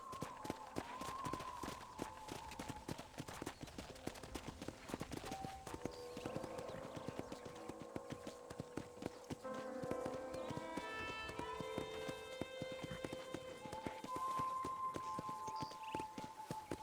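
Horse hooves trot in a quick steady rhythm in the video game Red Dead Redemption, close and clear, with a brief whinny and soft game-like tones in the background.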